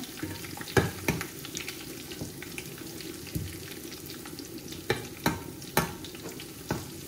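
Onion and garlic frying in a pan for a Bangladeshi beef curry, a steady low sizzle with scattered sharp scraping stir strokes against the pan, close up and with no talking.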